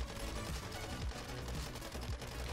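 SMG fire in the MW3 Zombies video game rattles in rapid, continuous bursts at close range, a dense stream of sharp shots with no pauses.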